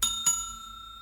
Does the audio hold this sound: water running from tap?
no